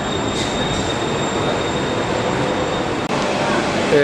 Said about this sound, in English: And here it comes, the BTS, better known as the Bangkok Skytrain